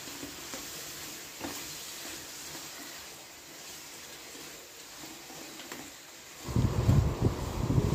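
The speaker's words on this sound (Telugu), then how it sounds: "ఇవి మనం మూత పెట్టి కొంచెం సేపు వేయించుకుందామండి" Small brinjals and onions frying in a pan: a soft, steady sizzle at first, then a sudden burst of louder, crackling sizzle near the end, close by with no talking.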